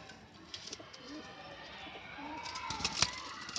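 A domestic pigeon recovering from paralysis coos softly in a quiet indoor setting, with a few faint low calls and a brief sharper sound near the end, no talking.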